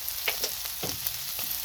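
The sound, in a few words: smash burger and onions sizzling while frying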